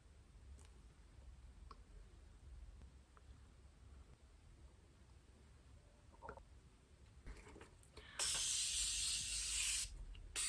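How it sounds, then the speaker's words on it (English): Morphe aerosol makeup setting spray gives one sustained hissing burst lasting about two seconds near the end, close to the microphone, after a quiet stretch of faint clicks and handling sounds. "Morphe setting spray. I love it because I like the aerosol better."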